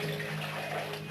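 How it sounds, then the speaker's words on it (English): Water is poured into the bottom of a roasting pan holding a hogget forequarter, a steady close splashing and trickling flow that runs continuously for about a second with no talking. "I'm going to put some water in the bottom of the pan, just to get a bit of steam going"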